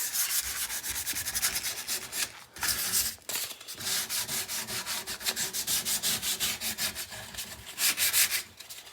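A carved wooden neck rubbed with 150 grit sandpaper: rapid back-and-forth scratchy strokes in a steady rhythm, close and fairly quiet, with two brief pauses partway through.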